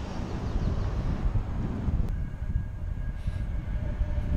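A Seattle Link Light Rail train passes with a low, steady rumble under heavy wind noise on the microphone, faint and somewhat distant, with no talking.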